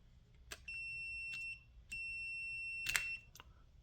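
A Klein CL810 backlit clamp meter on a continuity check of a fuse gives three steady high beeps, each lasting about half a second to a second, separated by clicks and quiet gaps.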